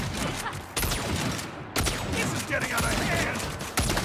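Automatic gunfire from the MD-185 in the video game Saints Row rattles in dense bursts, mixed with game effects and background action, loud and continuous with a brief break in the middle.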